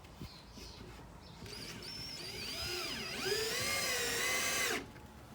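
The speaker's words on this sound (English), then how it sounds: "So I'm going to drill those about every 5 inches or so." A power drill whirs up and bites through the wooden board of a composter to bore air vents, its pitch bending under load over a few seconds before cutting off abruptly, close by with no talking.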